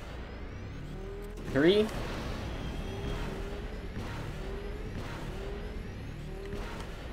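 A swoop racing vehicle in Knights of the Old Republic, on Taris, hums steadily while its engine pitch rises in short stepped sweeps at each gear shift, with a sharp whoosh early and a voice briefly speaking over it.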